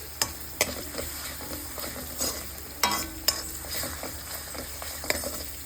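Ginger garlic paste frying lightly in a pan for chicken curry, a steady soft sizzle broken by sharp scraping clicks of a spoon against the pan at irregular intervals; no voices.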